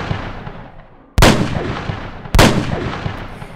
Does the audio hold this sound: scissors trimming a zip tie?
no